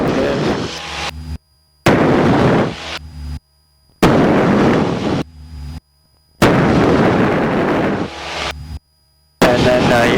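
Mouth breathing carried over a Cessna 172 aircraft headset intercom comes as loud, rough, close bursts of hiss in a steady rhythm, each broken by short silent gaps.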